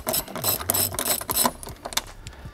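A hand ratchet clicks rapidly in quick bursts while backing a bolt out of the front end of a BMW G80 M3, loud and close, with brief pauses between the strokes.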